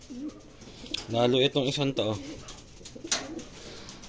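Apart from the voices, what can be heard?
racing pigeons cooing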